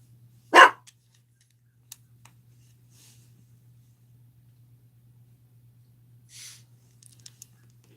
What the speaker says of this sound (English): Sounds like a puppy in distress.